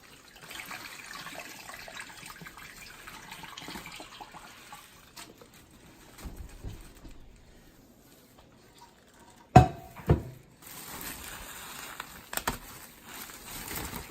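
Cooled marinade is poured into a bag holding a turkey, giving a soft, steady liquid trickle with a few louder splashes and plastic crinkles near the end.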